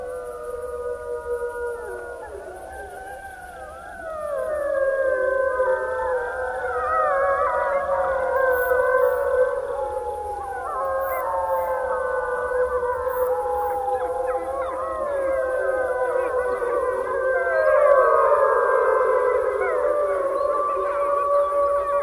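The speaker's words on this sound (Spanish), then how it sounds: "Los lobos sencillamente merodean, andan por la noche aullando" Several wolves howl together in a pack chorus, long rising and falling wails overlapping and sustained without pause, fairly loud and close, with no speech.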